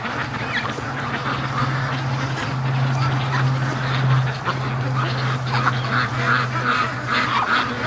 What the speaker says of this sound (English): we've got most of the ducks at the lake here